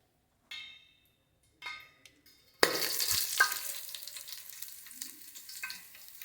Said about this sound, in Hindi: फिर जैसे घी पिघल जाए तो जीरा डालते हैं सबसे पहले